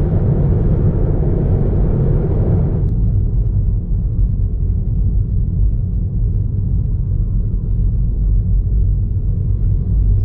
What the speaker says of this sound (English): Holy crap, what a traffic.